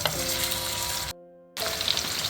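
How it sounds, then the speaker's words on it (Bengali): Chicken pieces for a Bangladeshi korma fry in oil over medium heat while being stirred constantly, giving a dense, close sizzle that cuts out briefly before resuming. "চুলার আঁচ মাঝারি করে ঢাকনা দিয়ে না ঢেকে আমি এভাবে অনবরত নেড়ে প্রায় 3 থেকে 4 মিনিট খুব ভালো করে ভেজে নেব"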